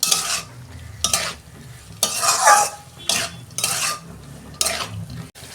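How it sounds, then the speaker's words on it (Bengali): A spoon scrapes and stirs masoor dal with pumpkin greens in a sizzling pan, with repeated scraping strokes in a steady rhythm over a soft continuous fry, close and fairly loud, no talking. "কুমড়ো শাকের সঙ্গে ডাল আমি ভালো করে কষে নিয়েছি"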